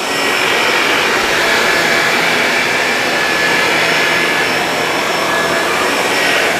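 A Shark Navigator Lift-Away vacuum runs over carpet with a steady, loud, close-up whooshing roar, holding a constant tone throughout without pauses or talk.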